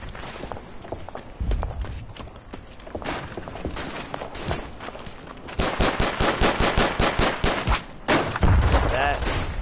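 Machine gun fire in the First World War shooter Verdun, scattered shots and bursts building to sustained rapid automatic fire, loud and close, with footsteps and battlefield noise mixed in.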